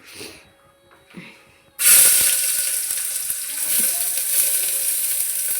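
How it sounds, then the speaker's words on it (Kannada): Onions drop into hot oil in a pan for a home-cooked crab sambar meal, bursting into a loud, steady sizzle that holds on after quieter kitchen sounds. "ಈಗ ಎಂಥದ್ದು ಈರುಳ್ಳಿ ಹಾಕ್ತಾ ಇದೆ"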